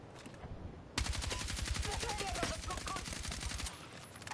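Rapid automatic gunfire rattles in a battle royale video game, a dense run of close, loud shots lasting several seconds before it cuts off, with faint background sound.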